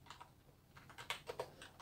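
A short burst of keystrokes taps out a DOSBox mount command on a computer keyboard, a handful of crisp close clicks in quick uneven rhythm, quiet and with no voices.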